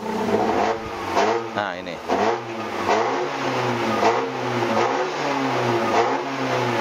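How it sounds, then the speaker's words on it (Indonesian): A 2002 Chevrolet Blazer Sport engine revs and accelerates nearby, the steady mid-pitched drone rising and falling in repeated surges while someone talks over it. "akselerasinya itu dia lebih responsif gitu untuk tipe Blazer Sport ini"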